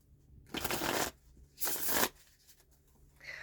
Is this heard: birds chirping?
no